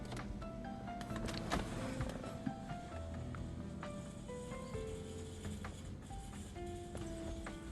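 A BMW F30's cooling system purge cycle gives off a low, steady mechanical whir, with faint tones and scattered small clicks throughout and no talking.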